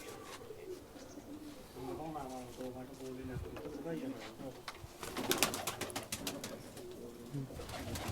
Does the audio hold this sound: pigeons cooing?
yes